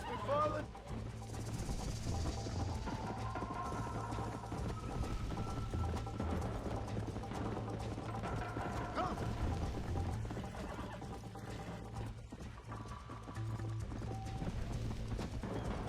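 Horse hooves clip-clop steadily through a ride in the video game Red Dead Redemption, a continuous rhythmic patter under game music and ambience, with a brief whinny and occasional mechanical clicks; voices talk over it.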